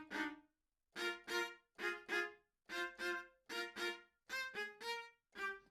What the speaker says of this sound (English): And the staccato is going to sound like this.